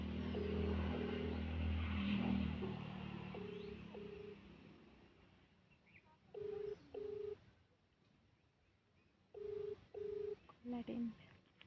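A mobile phone call rings out in rural India, with evenly spaced pairs of electronic ringback tones under background rumble and traffic noise. Voices talk early on, then fall quiet while the tones repeat.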